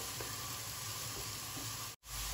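Ingredients are stirred and sautéed in a hot pan, a dense continuous sizzle with soft stirring scrapes, briefly cutting out just before the end, no talk.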